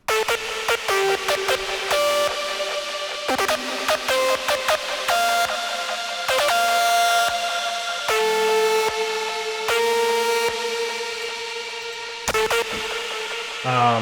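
A hardstyle synth lead preset plays alone, a loud bright melodic line of sustained, stepping notes with rich harmonics, phrased in repeated bursts separated by short gaps.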